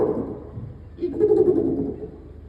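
A man imitates an owl's call with his voice at a fair, a low hooting coo swelling in the middle of the clip over faint crowd murmur.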